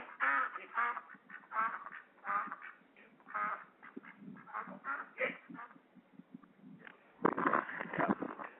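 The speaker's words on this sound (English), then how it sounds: "Do you have a duck?" Repeated nasal quacks from a duck, heard over a telephone line in a narrow, tinny band, coming in rapid irregular bursts with short pauses and a louder cluster near the end.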